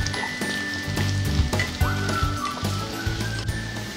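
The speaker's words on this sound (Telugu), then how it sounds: "ఉల్లిపాయలు ట్రాన్స్పరెంట్ అయిన తర్వాత పచ్చిమిర్చి వేసుకోవాలి." Chopped green chillies and onions sizzling in hot oil in a pan while being stirred for a Telugu potato fry, a steady close crackle with occasional scrapes and clinks of a spoon; no talking.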